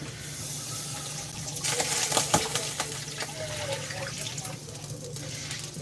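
Vegetable broth poured into a cooking pot makes a steady close splashing gurgle that swells midway and then settles, with faint background voices.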